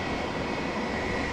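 A Boeing 777 taxiing at Amsterdam Schiphol Airport, its jet engines giving a steady, continuous broadband roar with a faint high whine, heard from a distance and without talk.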